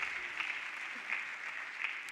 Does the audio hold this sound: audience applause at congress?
yes